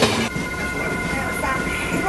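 A train travelling to Tibet at high altitude gives a steady, close, dense rumble and rattle of rolling carriages that continues unbroken throughout.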